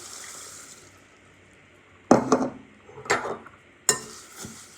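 Two cups of water splash and pour into a bowl of rice in a few short bursts, with light clinks of dishware in between; close and fairly quiet.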